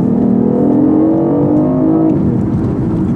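A 2015 BMW i8 hybrid on a racetrack gives a loud, continuous engine drone, with the pitch climbing and then shifting as the car accelerates through the run, close and with no voices.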